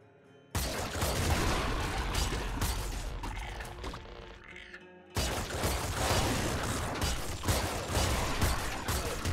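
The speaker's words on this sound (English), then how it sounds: "Explosions." Explosions and gunfire from the video game Nuclear Throne make loud, crackling bursts in a dense barrage. A brief near-silent gap breaks the noise before it resumes at full intensity.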